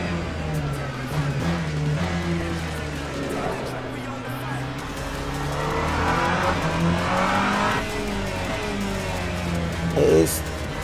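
A hypercar in a racing video game, running new tyres, revs hard at full throttle through third and fourth gear, its engine note rising and falling with tyre squeal, under steady commentary from a man.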